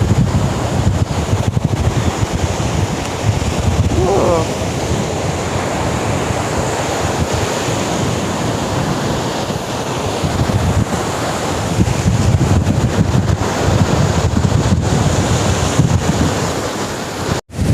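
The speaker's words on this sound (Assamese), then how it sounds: "এয়া চাওক পুৰা ঢৌ ৱেভ আহি আছে।" Sea waves crash and roll on a UAE beach under strong wind, a loud, continuous surf roar with gusting wind buffeting the microphone throughout and no voices.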